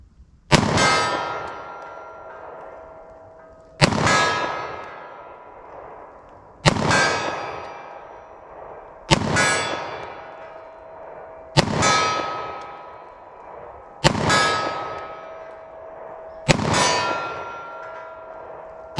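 Seven sharp shots from a .40 caliber handgun fire at an even pace about every two and a half seconds. Each crack rings out with a long, bright metallic decay, like steel targets clanging.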